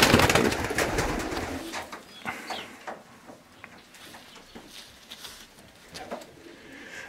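Racing pigeons in a loft cooing, a cluster of soft throaty coos and wing flutters, louder at the start and then settling into repeated close calls.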